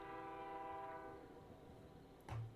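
A Missabe subdivision freight train rumbles past at trackside, its horn sounding in a long steady chord that fades, with a sharp clank near the end.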